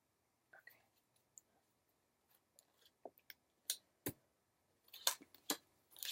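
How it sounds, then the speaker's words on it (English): Tarot cards being cut by hand give soft, close clicks and riffling snaps, sparse at first and then clustering into several sharper card slaps near the end. "Okay, I'm going to cut the deck here."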